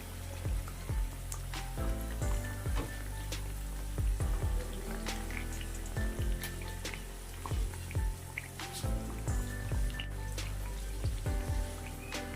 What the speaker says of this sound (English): I will continue to flip and fry like this until I get a light brownish color or light golden color